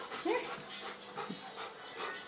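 A female dog pants quickly and close by indoors, with a short whimpery vocal sound near the start; the breathing continues in a soft, steady rhythm throughout.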